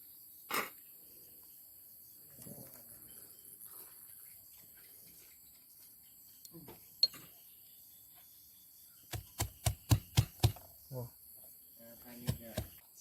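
Garlic, galangal and shallots are pounded in a mortar for a traditional Thai pork curry: a quick run of about six sharp thuds after a quiet stretch, then a couple more, over faint background sound.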